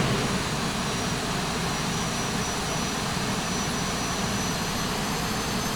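Simulated aircraft engines spool at forward thrust in the X-Plane 11 flight simulator, a steady, loud, broadband jet roar that holds unchanged throughout with no voices.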